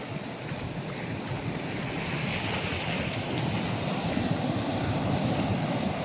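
Sea waves roll onto the coast at Mullaitivu in a loud, steady wash of surf mixed with gusting wind buffeting the microphone, building slightly toward the end.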